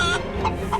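Hens being sold for two lakh rupees in a village comedy sketch give a few close, loud clucks in short bursts, with no talk over them.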